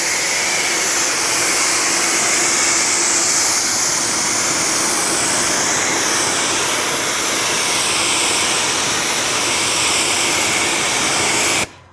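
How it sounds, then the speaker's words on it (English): A garden hose sprays steadily across a car's lower body panel coated in ceramic coating, a loud continuous hiss of rushing water that runs unbroken for the whole stretch and then cuts off abruptly at the end. "let me rinse this panel off"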